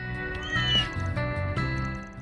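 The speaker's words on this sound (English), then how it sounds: "Wow, that cat's right in front of the portal." Cat meowing in the video game Trails Through Daybreak II, two or three drawn-out close meows over steady game music.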